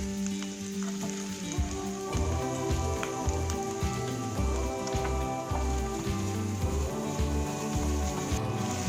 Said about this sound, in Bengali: এবার অ্যাড করব পেঁয়াজ কুচি, ফাইন করে চপ করা পেঁয়াজ।